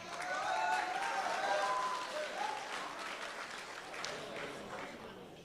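A boxing fight-night crowd applauding and cheering before the first bout, a sustained wash of clapping with voices mixed in, gradually fading toward the end.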